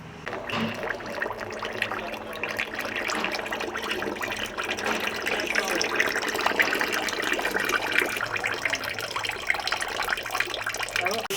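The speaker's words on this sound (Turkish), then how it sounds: "Aracımızı karşıya atmadan önce motor yağını boşaltıyoruz." Engine oil drains from the oil pan of a Dacia Sandero 1.2 in a steady, continuous pouring and splashing stream that holds an even loudness throughout.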